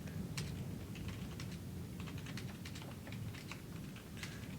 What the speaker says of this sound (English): I'm just getting really annoyed of typing all of this out every time